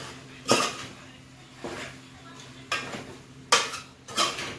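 Metal utensil scraping and clinking against a pan while chicken noodles are stirred with spices, a few distinct bursts spaced apart over a low steady hum, moderately close.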